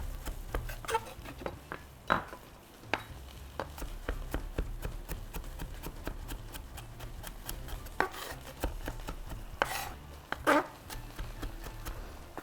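Knife chopping garlic finely on a board, a series of sharp, uneven taps, some isolated and some in short bursts, close and fairly quiet over a low background hum.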